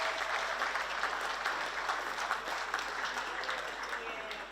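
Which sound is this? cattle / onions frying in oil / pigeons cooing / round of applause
round of applause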